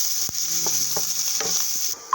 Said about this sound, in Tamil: நெக்ஸ்ட் வந்து நம்ம கட் பண்ணி வச்சுருக்க வெங்காயத்தை வந்து போட்டுடலாங்க.